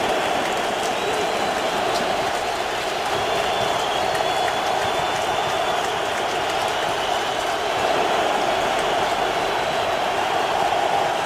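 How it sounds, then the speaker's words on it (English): Home crowd at the Cleveland Browns football stadium during a 2013 game against the Bills, a loud, steady roar of cheering that holds for the whole stretch with no speech over it. "that's the Cleveland Browns crowd"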